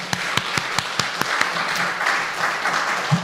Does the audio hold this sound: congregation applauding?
yes